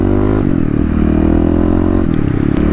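A 2018 fuel-injected Kawasaki KLX351 dirt bike accelerates hard through a 0-60 run, its single-cylinder engine loud and close with rising, stepping engine notes as the gears change.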